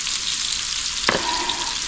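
Food, likely salmon and pasta, sizzles steadily in an older, non-non-stick frying pan, with one brief scrape of stirring midway through a continuous frying hiss.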